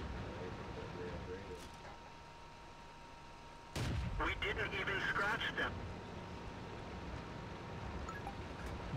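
A tank cannon fires in World of Tanks, a single sudden heavy boom followed by a few seconds of ringing, crackling aftermath over a low steady engine and ambient rumble.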